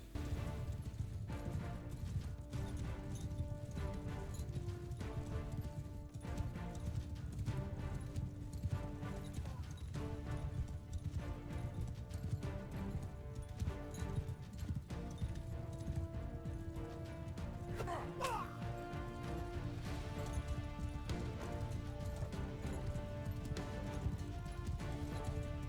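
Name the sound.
cavalry horses galloping in a video game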